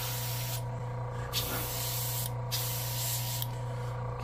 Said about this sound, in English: I'm going to quickly do a test spray